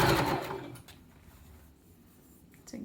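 A sewing machine stitches fabric face masks, a brief loud burst at the start that quickly drops to a faint, quiet hum with a small clatter near the end.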